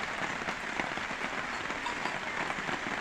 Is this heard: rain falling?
yes